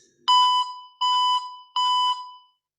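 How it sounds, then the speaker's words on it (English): Three identical electronic beeps from a PenFriend audio labeling pen after its mode button is pressed, each a clear, close tone lasting about a third of a second, evenly spaced and heard alone. "If you then press the mode button a third time, you will hear 3 beeps."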